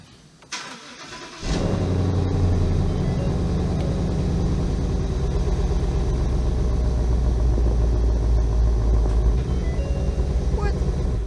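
A red car's engine in a video game starts with a loud rumble after a brief quiet start, then idles steadily and loud, with a low mid-pitched drone throughout.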